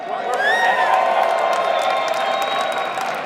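Live crowd at a UFCX gaming event cheering and whooping in a steady, loud wash of voices that holds from start to finish, with a few high shouts rising above the roar.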